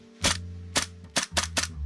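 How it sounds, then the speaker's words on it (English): A GHK AK gas blowback airsoft rifle test firing with a bakelite magazine, giving five sharp, close, snappy shots in quick irregular succession over a low background hum. "it's now time to test fire."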